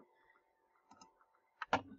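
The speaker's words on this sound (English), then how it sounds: "And I'm going to click OK." A computer mouse gives a few quiet, sharp clicks in an otherwise hushed room, with a scattered pair of light taps followed by two firmer clicks near the end.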